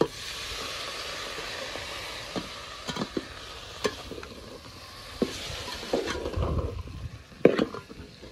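A spice paste mixed with water is poured into a hot pan of bhogi vegetable curry, a bright steady sizzle close by that then bubbles, broken by scattered clinks and scrapes of a spoon.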